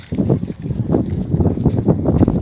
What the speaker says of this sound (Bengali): বাতাস আসতেছে অলরেডি, অনেক সুন্দর।